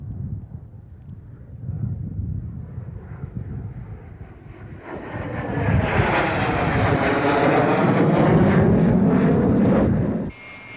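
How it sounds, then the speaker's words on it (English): An Aero L-59 Albatross jet trainer at an air show, starting as a distant rumble and then swelling into a loud, roaring pass with a sweeping whine before it cuts off abruptly. "the L-59 is an advanced trainer and attack aircraft"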